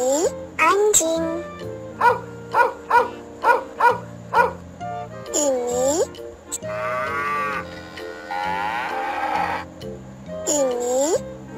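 A dog barks in a steady run of about six short, evenly spaced barks amid other animal calls, with a voice speaking.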